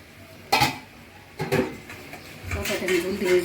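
A metal lid clanks onto a cooking pot of fish curry in a home kitchen, a couple of sharp knocks and rattles close by, with background voices and kitchen clatter.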